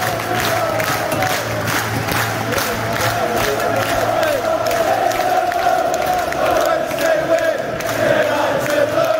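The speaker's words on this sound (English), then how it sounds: "these lads all deserve a round of applause" Roaring football stadium crowd at a Sheffield Wednesday match against West Bromwich Albion, a steady wall of cheering with applause mixed in, loud and continuous throughout.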